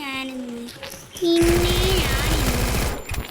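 Rapid bursts of gunfire in the video game Free Fire during a ranked match, loud and dense over about two seconds, with a voice speaking briefly before it.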